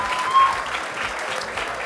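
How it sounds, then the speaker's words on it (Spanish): Audience applause in response to a call to thank an event sponsor, steady broadband clapping from a crowd filling the whole short stretch at moderate level with no clear voices over it. "Así que un aplauso a Telcel, por favor."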